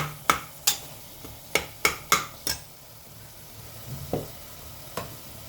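Ground masala fries in oil for a capsicum curry, a low sizzle under sharp clinks and scrapes of a spoon stirring against the pan.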